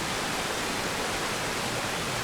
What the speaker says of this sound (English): Some splashing happening.